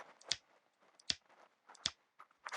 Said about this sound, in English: Snipping goes the scissor man.